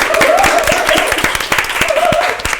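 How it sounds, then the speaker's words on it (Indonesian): An audience applauds at an Indonesian talk-show taping, a lively spread of clapping with sharp individual claps and some cheering voices mixed in, loud and close for a few seconds. "beri tepuk tangan dulu dong"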